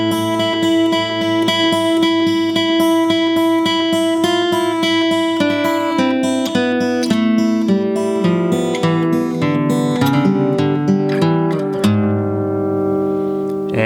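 Slow, deliberate guitar notes pick out a Spanish-flavored minor lick one at a time, ringing clearly and evenly with no talking, until a final note sustains and fades.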